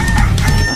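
A rooster crows briefly in the morning in Kalibo, a provincial town, heard loud but half-buried in a dense, noisy background, with no talking.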